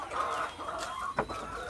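BV318 laying hens cluck inside a clean chicken farm, a few close, drawn-out clucks with a short sharp squawk near the end over a busy flock.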